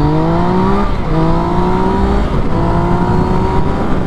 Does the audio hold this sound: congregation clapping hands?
no